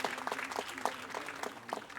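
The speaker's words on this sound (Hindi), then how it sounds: "जोरदार तालियां हो जाएं इस युवा कलाकार" Applause for a young performer at a Rangkriti Samaroh stage event: faint, scattered clapping from a distant audience, uneven claps standing out against a low room background.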